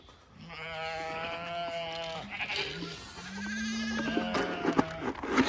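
Sheep and lambs bleating on a farm, several drawn-out overlapping calls close by, some high and wavering, with a faint rustle of movement in the background.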